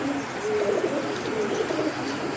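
Pigeons coo softly and continuously against a steady background hum, with low, rolling calls overlapping throughout.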